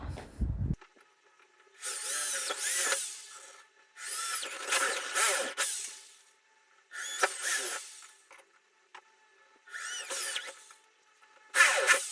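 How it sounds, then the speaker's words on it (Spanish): Power drill boring holes into a homemade antenna support, heard in five separate bursts of a few seconds each with short quiet pauses between, close and fairly loud. "Y ahí voy a hacer los agujeros para colocar este elemento."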